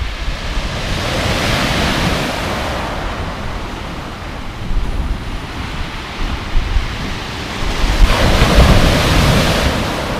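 Surf rolling in and breaking on the shingle shore of Hythe beach in Kent, a steady broadband wash that swells and recedes with wind noise over the microphone, no voices.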